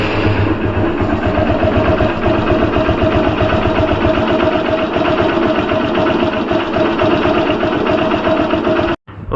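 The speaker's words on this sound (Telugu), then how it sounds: "ఒకసారి అయితే ఇంజన్ కండిషన్ అయితే వినండి భయ." A motorcycle engine runs steadily after servicing, a loud, close, even idle with a rapid regular thump that continues almost without break, with no talk over it.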